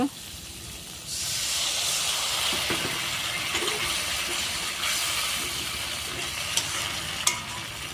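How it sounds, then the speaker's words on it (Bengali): A sudden rush of hissing and sizzling as water hits fried spices in a hot pan, continuing as a steady simmering hiss with a few light clinks. "এখন আমি জল দেব।"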